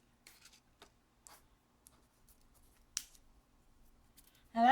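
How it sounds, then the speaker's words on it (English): Scissors snip the corners off paper for a small Easter paper basket, a few faint, sparse clicks and cuts in a quiet room, ending with a louder sound. "Gonna snip the little corner off there and the corner off here."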